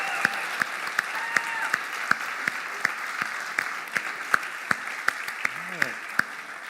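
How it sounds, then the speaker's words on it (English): An audience claps steadily, a moderate crowd applauding with sharp individual claps standing out over the steady patter. "Can you get one more big round of applause for all 5 presenters?"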